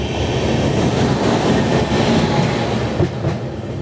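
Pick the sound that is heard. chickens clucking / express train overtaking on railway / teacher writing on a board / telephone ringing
express train overtaking on railway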